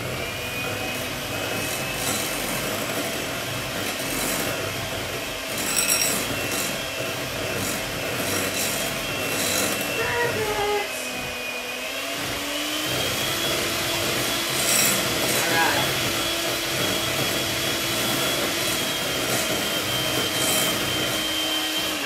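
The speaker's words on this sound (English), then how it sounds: "So I'm gonna mix this thoroughly." Continuous scraping and rubbing of a utensil working through thick pumpkin coffee cake batter in a bowl, close up, with a whirring machine-like noise running underneath.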